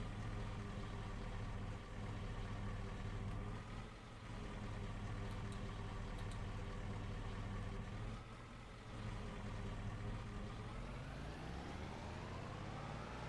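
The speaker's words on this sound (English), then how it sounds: "I really do like the sound of the exhaust that we got down here." A utility vehicle engine in Farming Simulator 23 drones steadily with a rumbling exhaust note, holding a constant loud tone before its pitch climbs slightly near the end.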